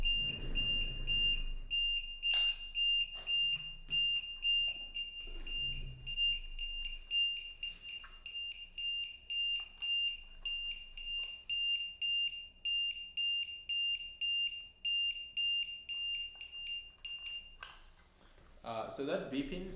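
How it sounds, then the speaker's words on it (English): A voltage monitor signalling a drained battery beeps in a steady, rapid series of shrill electronic pulses, loud and close, with brief talk and handling noises early on before the beeping stops near the end. "So that beeping, it's from this guy here, the voltage monitor, and it's just indicating that the battery is drained"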